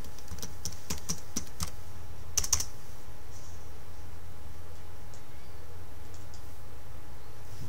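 Someone types text into AutoCAD on a computer keyboard, a quick burst of close, crisp key clicks over the first few seconds that then trails off into quiet room hiss. No one speaks.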